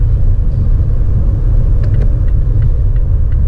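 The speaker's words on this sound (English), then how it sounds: "So that's full throttle." A Mazda CX-5 with the 2.2 diesel engine pulls at full throttle, heard from inside as a loud, steady low rumble and road drone with a few faint clicks, no talking.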